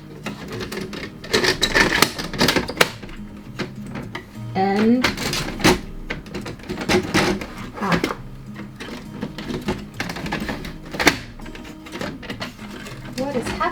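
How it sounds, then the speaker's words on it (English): Paper is pulled from a home office printer in a small business studio, with repeated rustling, clacking and mechanical clicks close by, while someone speaks briefly over the handling. "I'm just gonna take paper out of the printer"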